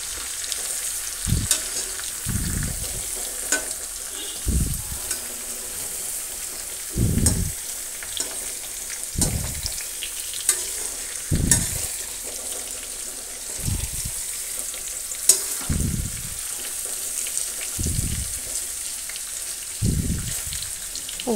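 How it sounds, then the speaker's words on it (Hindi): Snake gourd kalonji fries on a slow flame, a soft continuous sizzle punctuated by a spatula's scraping strokes roughly every two seconds as the pieces are slowly turned. "इसे मैं धीरे धीरे पलटूंगी। स्लो फ्लेम पे हमें इसे पकाना है"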